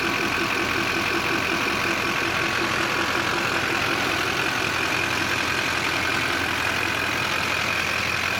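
An LB7 Duramax truck engine fitted with an AFE cold air intake idles steadily with a low, even rumble and a hiss of air. It runs quietly on its own throughout.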